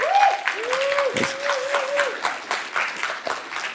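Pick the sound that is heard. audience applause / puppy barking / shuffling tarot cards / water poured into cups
audience applause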